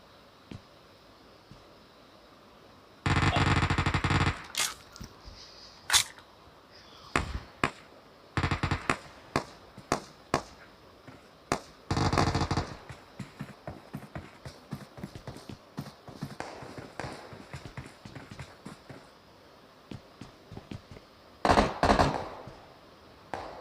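Gunfire in the mobile battle royale game PUBG Mobile, played on a Samsung Galaxy M21, comes as sharp loud cracks, some in quick bursts and others as single shots, spread across the clip with quieter tapping between them.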